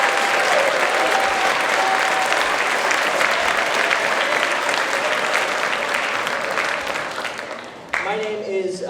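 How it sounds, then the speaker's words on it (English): Concert audience at a Morristown High School bands performance applauds middle school student musicians, dense sustained clapping from a large crowd that fades toward the end as a voice begins speaking. "Let's have another huge round of applause for all of our middle school students."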